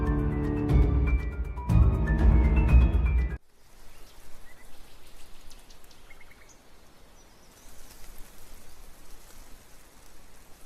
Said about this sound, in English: A dreary downpour starts off the Monday.